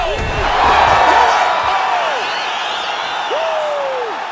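A roaring arena crowd cheers and whoops in the EA Sports UFC 5 fighting game after a knockout, loud and sustained, with whistles and shouts rising over the din.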